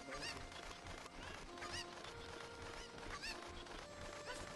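Cuckoo chickens in the Zelda game Ocarina of Time, repeated short squawking clucks over a dense, busy background of game music and noise, several calls spaced through the clip.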